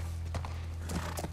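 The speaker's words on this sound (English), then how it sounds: "And now I can get on the horse anywhere I want." Horse hooves clopping in The Last of Us, a few soft, uneven steps over a steady low in-game drone, close and moderately loud, with no talking.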